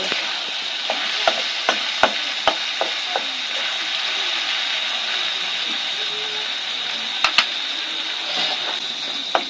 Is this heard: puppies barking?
no